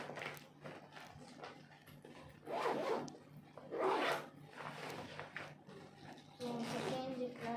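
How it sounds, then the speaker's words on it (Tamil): A school bag's second zipper is pulled shut in a few quick rasping strokes, close and fairly loud, with soft room noise between the pulls. "இப்போ அந்த செகண்ட் ஜிப் போகும்."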